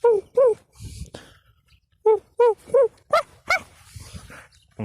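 Person imitating monkey noises with their voice, producing bursts of short hooting, yelping calls in quick clusters separated by pauses, close and fairly loud.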